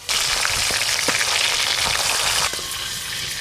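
Fish frying in mustard oil in a wok, a loud, continuous crackling sizzle with occasional soft clinks from stirring, easing slightly toward the end.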